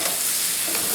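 Portabella mushrooms fry in a pan with a close, continuous sizzle and crackle for a brief moment.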